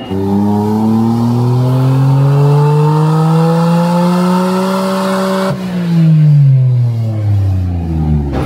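Stock Nissan R34 GTR with a Blitz exhaust revving hard on a dyno, a loud, close, sustained engine note rising steadily through the gears, then a brief drop before it climbs again.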